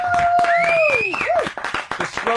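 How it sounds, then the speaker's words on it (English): A small group in a radio studio gives a loose round of clapping, the claps sharp and uneven under voices and drawn-out vocal tones. "She gets the slow clap."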